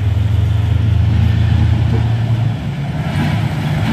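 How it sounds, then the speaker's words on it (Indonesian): A trailer truck roars past on the road while overtaking, its engine a steady low drone that is loud and close before easing slightly toward the end. "Ada tuh trailer membalap bosku."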